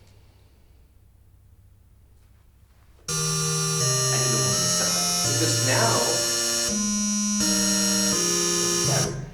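Aliased digital synthesis rendered at a 24 kHz sampling rate: after about three seconds of faint room hiss, loud, bright, buzzy synthetic tones begin abruptly and step through changing pitches with harsh, grainy overtones until the end.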